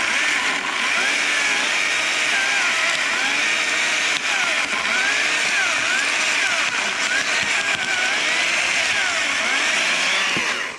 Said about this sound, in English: I'm just letting the weight of the saw do all the work, and this one's gonna have to be a bottom cut.